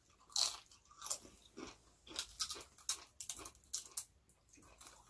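Crisp, close crunching of scotch egg flavoured crisps being bitten and chewed, a series of sharp irregular bites and munches in a quiet room with no talking.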